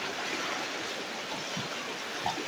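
Rising floodwater flows steadily during a rescue operation, a continuous soft rushing wash of water heard at moderate distance with no voices over it.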